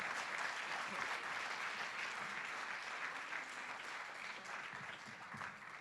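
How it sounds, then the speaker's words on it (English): Audience applause at a 2019 EMC symposium, a dense, steady wash of clapping from a crowd that carries on evenly throughout without pause. "another round of applause for our amazing crew this year"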